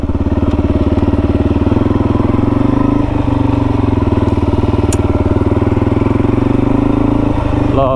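A dirt bike engine runs on an off-road trail, a loud, close, steady mechanical drone with rapid regular firing pulses, briefly rising in pitch near the end.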